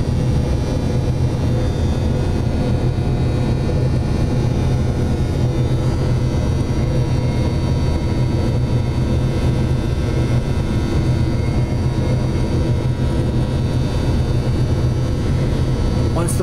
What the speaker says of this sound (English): Let the lube system continue to run while the motor is cycling down.